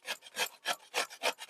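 A radish is grated by hand, with rhythmic rasping strokes repeating about every third of a second, close and crisp, with no voices.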